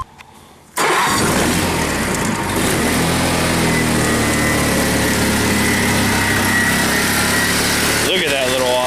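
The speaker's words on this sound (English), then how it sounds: "Look at that little awesome engine." A small Honda tractor engine cranks and catches on a cold start, then settles into a loud, steady idle close by, with its tone shifting slightly near the end.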